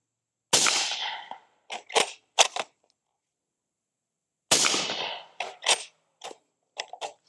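A BC-15 bolt action rifle in 300 Blackout, 7.5-inch barrel, fires two sharp nearby shots several seconds apart, each followed by clicks and clacks of the bolt being cycled, with silence between.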